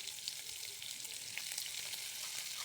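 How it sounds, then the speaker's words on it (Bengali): Dried fish fries in hot oil in a pan at home, a soft, even sizzle with faint crackles running steadily throughout, fairly quiet and without any talk. "এখন একটু তেলে ভেজে নিচ্ছি"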